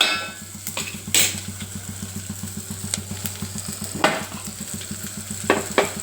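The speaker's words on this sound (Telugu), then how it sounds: "పోపు వేగాక ఇందులో పచ్చిమిరపకాయలు, ఉల్లిపాయలు, కరివేపాకు వేసుకొని కొంచెం వేగనివ్వాలి" Green chilies, onions and curry leaves fry in hot tempering oil with cumin, giving a steady close sizzle. A spoon scrapes and clinks against the pan in a quick repeating rhythm, with a few louder knocks.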